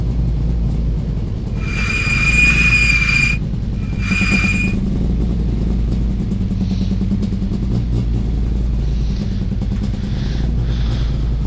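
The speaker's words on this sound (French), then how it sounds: "désolé pour le bruit des freins" Two high, piercing squeals of car brakes in the rFactor racing video game over a low engine rumble, the first longer, followed by fainter chirps and a steady drone.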